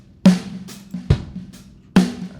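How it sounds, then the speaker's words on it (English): Unprocessed drum kit from a studio session, with loud kick-and-snare hits at an unhurried groove, a sharp crack near the middle and a ringing low tone sustaining between strikes; no voices. "So here's drums, clean."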